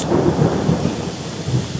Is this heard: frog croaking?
no